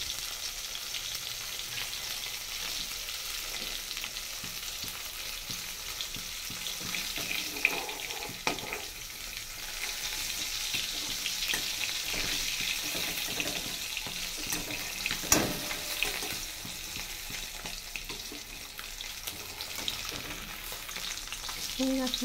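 Whole fish frying in oil in a kadai, a soft continuous sizzle with occasional stirring clinks and a water-tap-like splash in the background, quiet and without speech.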